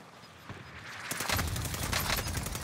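Gunfire during a battle-royale duos match in a video game, bursts of rapid shots swelling into sustained loud automatic fire after a quieter start.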